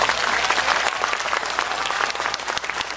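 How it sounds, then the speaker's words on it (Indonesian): A congregation at an Islamic gathering in Taiwan breaks into loud, sustained clapping for NU Taiwan, a thick wash of many hands close by that tapers slightly near the end. "Tepuk tangan untuk NU Taiwan."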